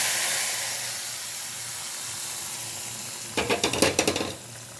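A mixture for a white pumpkin buttermilk kootu goes into a hot pan, with a steady soft sizzling hiss throughout, then a quick run of six or seven scraping stirs near the end.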